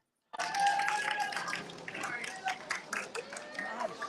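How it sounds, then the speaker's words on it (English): Spectators at a national indoor racquetball championship match clap in scattered, uneven bursts, moderately close, amid general crowd chatter and a voice speaking over it. "That's why you hear all the extra clapping in the background"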